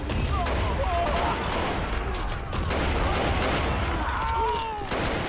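A continuous battle din of rifle and artillery fire in the Army Men of War video game, a WW1 trench assault, with dense overlapping shots and booms forming a busy roar, under faint voices.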